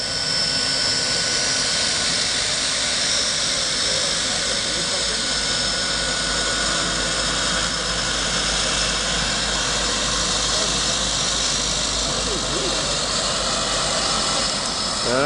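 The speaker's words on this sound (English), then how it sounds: "So this is the plane we always take." A small floatplane's engine drones steadily and loudly throughout on a walleye fishing trip in Canada, a dense continuous roar heard from close by, likely from inside the cabin, with no clear breaks.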